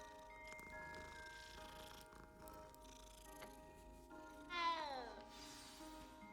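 A cat in Hogwarts Legacy gives a single clear, fairly close meow over quiet game ambience and faint ticking.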